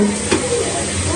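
A pot of food boiling on the stove gives a steady close hiss of steam with faint bubbling underneath, and a voice speaks briefly over it.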